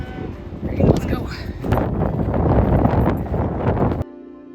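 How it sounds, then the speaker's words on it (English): Hot, dry desert wind in the Coachella Valley buffets the microphone with a loud, steady roar throughout, then cuts off abruptly near the end. "The wind was super dry and super hot, like as if you're in a hot oven"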